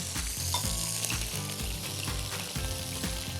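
Tomato cooks in olive oil with garlic, giving a dense, even sizzle and fry close up, with rhythmic stirring scrapes and light pan knocks and no talking.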